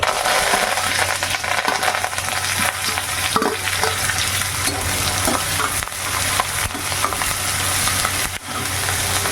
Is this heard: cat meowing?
no